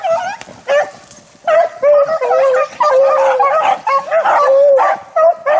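Beagles chasing a rabbit on a late-February hunt bay and bark loudly and close by, bursts of yelping howls repeating in quick succession over several seconds.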